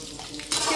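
Peanuts for chivda frying in hot oil, a brief close sizzle that jumps louder halfway through, with no talking.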